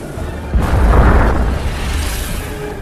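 A dynamite blast goes off near a boat on a piranha-infested river in a film, a deep rolling boom that swells and then rumbles away over about two seconds.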